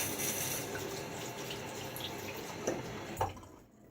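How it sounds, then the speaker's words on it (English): Water runs from a tap into a shaving bowl to thin the lather, a soft continuous splashing stream with a couple of drips before it tapers off to quiet. "I'm going to add just a little bit more water."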